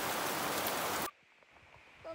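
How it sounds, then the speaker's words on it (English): Steady rain hisses loudly for about a second, then cuts off to quiet background with faint scattered sounds. "Waiting on the rain to finish now."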